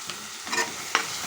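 Chili powder is stirred into taro root frying in a pan, with three quick scraping stir strokes over a soft sizzle, close up and fairly quiet.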